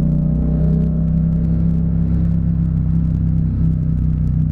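A Yamaha MT-07 motorcycle with a sport exhaust holds high revs in traffic, a loud steady droning roar with a strong low buzz, close and continuous, with no talking.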